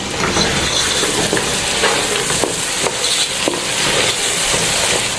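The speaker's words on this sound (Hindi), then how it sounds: "तो मसाले अच्छी तरह से भुन चुके हैं।" Spices for aloo gosht frying and sizzling in a large pot, a steady dense hiss with occasional crackles and stirring scrapes, close and loud throughout.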